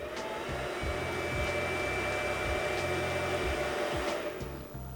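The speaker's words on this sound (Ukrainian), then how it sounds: "Вмикаю інвертор." A homemade 600 W portable charging station's inverter hums steadily after being switched on, its cooling fan producing a continuous close whir with faint electrical tones and no speech.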